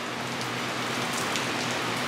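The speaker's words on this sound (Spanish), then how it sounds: "Mira, está lloviendo y con el sol." Steady rain falls on surfaces outdoors during a sunshower, a dense even patter with scattered brighter drop hits, fairly close and continuous, with no voices.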